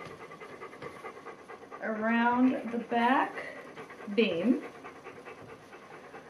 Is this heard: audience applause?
no